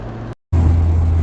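Loud, steady road rumble inside a moving car, with a strong low engine drone; the noise cuts out briefly, then returns just as loud.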